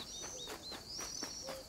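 Small tits chirp in the wildlife video game Alba: A Wildlife Adventure, a few quiet, thin high-pitched calls and short whistles repeating over soft ambient background.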